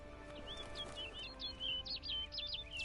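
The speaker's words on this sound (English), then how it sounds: "Looks like the bird's leading me somewhere" Bird calls in The Witcher game: a series of short, high chirps and whistled notes repeating irregularly over a faint, steady ambient hum, fairly quiet and close.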